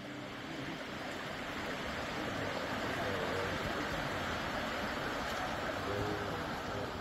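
A weak Rainbow Waterfall at Springbrook National Park in Queensland trickles and splashes, a soft continuous rushing wash that stays even and fairly faint throughout.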